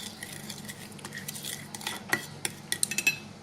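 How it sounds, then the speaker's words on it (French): A utensil stirs sugar, salt and oil together in a bowl while making Vietnamese banh ran beignets, giving soft scraping and a run of light clinks that grow sharper toward the end, close and quiet, with no talking. "je vais tout mélanger, sucre, sel"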